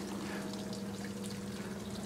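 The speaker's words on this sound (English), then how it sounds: "the babbling brook" A garden brook babbles and trickles steadily, a faint continuous wash of flowing water with a low hum underneath, no voices.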